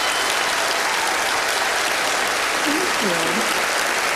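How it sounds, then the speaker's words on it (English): Applause from a magic-show theatre audience as a volunteer is brought onstage, a steady wash of clapping with a brief spoken thanks near the end. "Give him a big round of applause."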